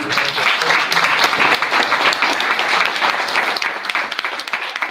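An audience at a city council candidate forum breaks into sustained applause, a dense, loud wash of clapping that holds steady throughout and only begins to ease near the close.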